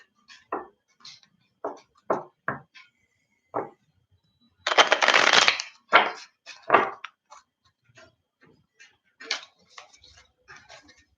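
Crisp, irregular tarot-card-shuffling clicks and flicks up close, with a longer riffling burst in the middle, then more scattered taps.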